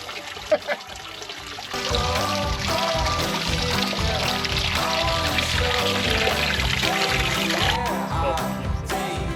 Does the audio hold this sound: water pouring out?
yes